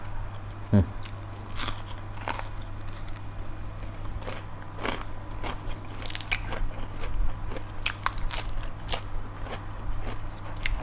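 Crisp, crunchy bites and chewing of a grilled red ant egg dish wrapped in leaves, served with a spicy dipping sauce, repeating in close irregular crunches over a low steady hum.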